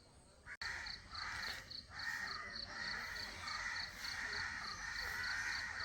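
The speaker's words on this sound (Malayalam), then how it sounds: "കാക്ക" Crows caw outdoors during an early-morning walk, giving a dense run of repeated harsh calls from a nearby flock that keeps going without a break.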